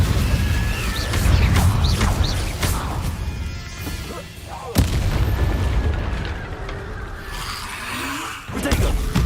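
An Incendio fire spell is cast in the Hogwarts Legacy video game, a roaring whoosh of flame with booming impacts and a sharp crack midway, the player speaking over the dense game effects.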